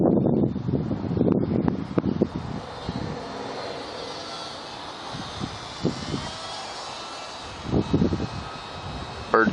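A WLToys Cessna-182 F949 three-channel RC plane flies slow passes over a front yard, its small electric motor whining steadily and fairly near, mixed with gusts of wind noise and rustling across the recording.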